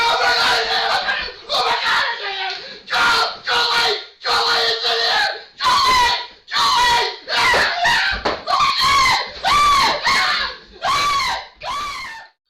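A terrified man lets out a series of loud, close screams in an office after a squirrel leaps into the room, each cry in a separate burst with brief pauses between, about a dozen in all.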